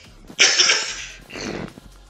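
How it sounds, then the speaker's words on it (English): A single harsh cough bursts out close to the mic, followed by a softer second cough and breathy throat noise, with no talk around it. "Excuse me, I got a cough."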